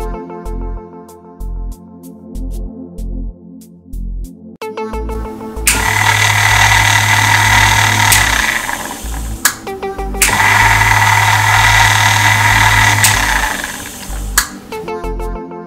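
A DC motor switches abruptly between forwards and backwards with no ramp, giving repeated loud electronic whines and tonal buzzing that cut off sharply at each reversal, with clicks and rhythmic pulsing between the runs.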